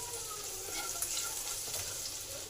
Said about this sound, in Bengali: রসুনটাকে একটু ভালো করে ভেজে নেব।